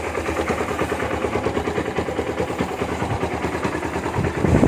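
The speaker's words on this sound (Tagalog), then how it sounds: "pinapainit na nga po natin ang SA150 natin" An SA150 motorcycle engine idles while warming up, a steady, close, rapid low chugging pulse with a slight rise in level at the very end.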